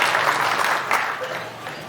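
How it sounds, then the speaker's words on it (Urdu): Audience applause at a death anniversary commemoration event, a dense steady burst of clapping from a crowd that stays loud and gradually thins slightly toward the end. "بھرپور تالیاں میجر مشتاق صاحب کے لیے"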